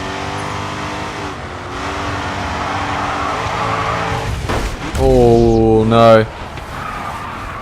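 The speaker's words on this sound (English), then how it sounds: "My car just dug in there with the drift and just almost span." Race car in the video game GRID 2 drifting through a corner, engine droning then tyres screeching in a loud skid that rises and warbles for about a second, with someone talking over it.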